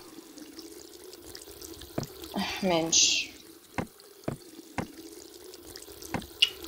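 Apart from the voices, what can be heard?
running water from a tap in the video game The Kite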